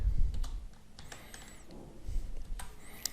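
Quiet computer keyboard typing while entering and pasting program code, a few soft scattered key clicks over low background noise, with no talking.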